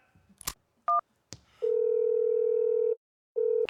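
A telephone dial tone hums steadily while a call is placed, starting after a few short clicks and beeps, holding for over a second, breaking off, then resuming briefly at the end, loud and close.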